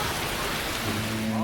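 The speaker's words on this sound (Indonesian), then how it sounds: "Hujan deras tiba-tiba mengguyur." Heavy rain pours down steadily as a dense, continuous hiss filling the whole clip, with a faint low hum underneath and no voices.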